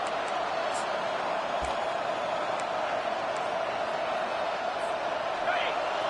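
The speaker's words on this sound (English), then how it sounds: "Now the crowd responding in the red zone, trying to help this defense." A steady, dense roar of a large football stadium crowd during a red-zone defensive stand, continuous and even throughout, with faint thumps and a commentator's voice underneath.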